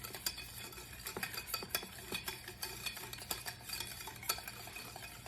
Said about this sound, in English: in goes the 1 egg and the 1 egg yolk. And again, whisk that in.